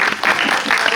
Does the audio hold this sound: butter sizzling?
no